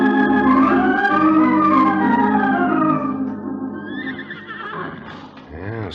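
A horse lets out a loud, close whinny that shakes and falls in pitch, followed by snorting, in an old-time radio western sound effect from 1952.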